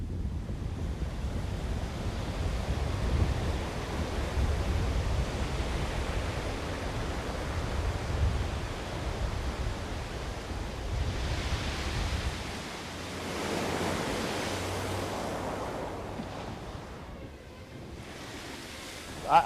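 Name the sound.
ocean waves and wind at Windmill Point, Hull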